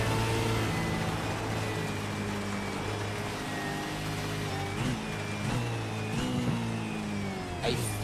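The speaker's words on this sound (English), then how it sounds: "Listen to the car here of Craig Bond in the wet." Craig Bond's racing car runs a wet track in a club motorsport round, its engine droning steadily with tonal whine and gear shifts, shifting pitch through a flat-out corner, continuous and fairly close.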